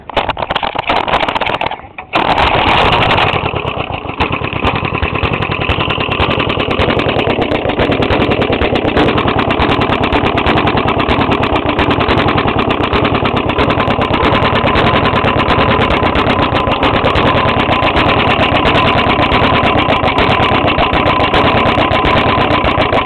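A 4 hp Briggs & Stratton small engine running with a rod knock, a loud, close, continuous rapid clatter that cuts out briefly near the start and then settles into a steady harsh rattle.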